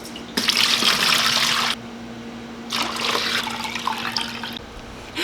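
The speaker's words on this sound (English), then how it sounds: "And then I'll fill this up with water, filtered water." Filtered water runs from a tap into a container in two bursts, a bright hissing splash that stops briefly and then resumes more softly, with no one talking.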